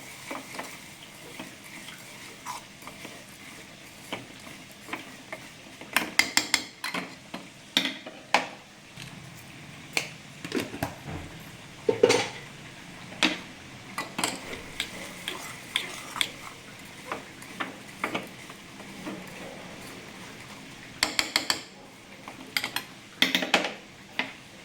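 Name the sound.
stirring melting jaggery in a pan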